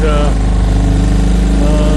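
A Parson 2.6 horsepower outboard engine on a small boat, smoking a bit, runs with a steady low, close-up drone throughout, a brief higher tone sweeping near the start.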